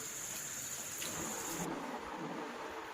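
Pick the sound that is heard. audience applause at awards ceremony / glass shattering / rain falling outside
rain falling outside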